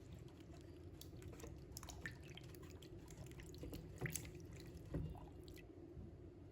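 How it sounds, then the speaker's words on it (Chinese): Running tap water splashing and dripping over fresh lotus roots in a kitchen sink as mud is rinsed off, a steady close wash with a few sharper drips and splashes. "先把莲藕清洗一下，把表面的泥土残留清洗干净"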